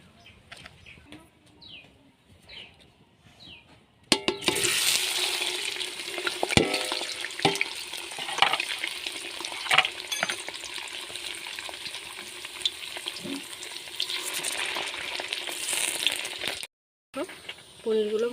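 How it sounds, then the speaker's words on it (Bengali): Paneer cubes fry in white oil in a wok over a stove, a steady bright sizzle that sets in sharply after a few quiet seconds and runs loud and close, with occasional stirring clatter, before a brief drop near the end. "এবার পনিরটা আমি ভালো করে ভেজে নেব।"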